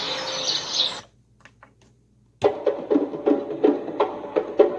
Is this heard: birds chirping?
yes